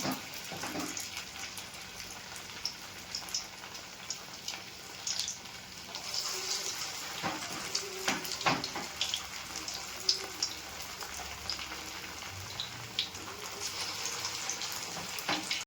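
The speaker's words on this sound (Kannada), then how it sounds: "ನೋಡಿ ಉಂಡೆ ನಿಮ್ಗೆ ಎಷ್ಟು ದಪ್ಪ ಬೇಕೋ ಅಷ್ಟು ಉಂಡೆ ನೀವು ಮಾಡಿ ಎಣ್ಣೆಲಿ ಬಿಟ್ಕೋಬೋದು" Balls of leftover rice pakoda batter frying in hot oil, giving a quiet, steady bubbling crackle with scattered small pops and ticks that continues throughout, with no talking.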